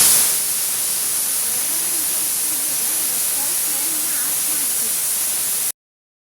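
A pressure cooker on the stove vents a steady, loud hiss of steam for several seconds while hotel-style chicken biryani cooks inside, with faint voices low in the background.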